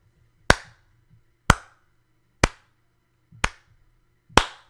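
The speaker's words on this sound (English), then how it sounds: "You, sir, deserve a slow clap for your genius." Five sharp, isolated hand claps spaced about a second apart in a deliberate slow rhythm, each loud and close with a quick decay, over near silence.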